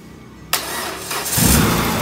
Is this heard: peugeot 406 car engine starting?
yes